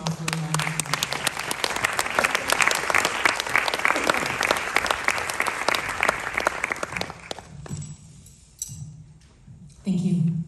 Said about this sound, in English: So I welcome her to join us on the stage and offer a round of applause.